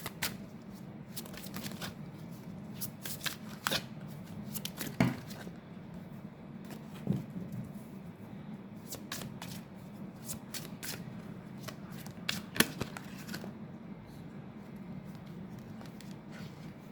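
Tarot cards shuffled and drawn by hand at close range, with repeated soft riffling bursts and light flicks spread across a quiet room and no voices.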